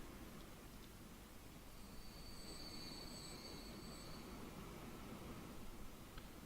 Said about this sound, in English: Let's go have a look at some of these goods trains.